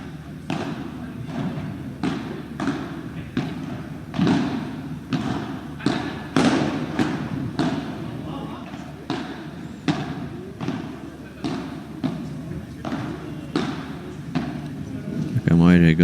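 Padel ball struck in volleys and bouncing on court during a professional Premier Padel rally, a steady run of sharp thuds and pops over close commentary.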